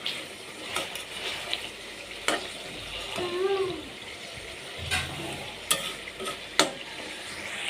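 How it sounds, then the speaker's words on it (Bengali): Chicken pieces frying dry in oil with spices, stirred in the pan, giving a close sizzle broken by scraping clinks of the spoon and a few sharp knocks, with no talk over it. "এই যে দেখেন আমার মেয়ের জন্য মুরগিটা রান্না করছে"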